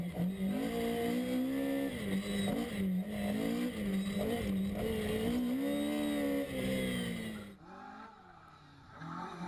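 On-board in a Darien T90 rally car at Snetterton, the engine howls and surges through repeated rises and falls in pitch as the driver works the throttle and gears, loud and continuous, before cutting off abruptly near the end.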